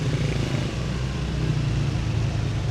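A motorcycle rides through city traffic in Iloilo, with a steady low engine drone and road rumble that carries on without a break.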